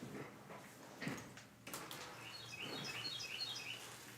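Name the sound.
unidentified bird singing outdoors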